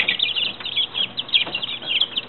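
Young chicks about two and a half weeks old, settling in to roost for the night, chirp and cluck together in a dense, continuous chorus close by.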